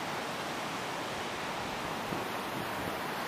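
Steady, full roar of ocean surf washing continuously at Melasti Beach, Bali, with wind buffeting the microphone; no voices.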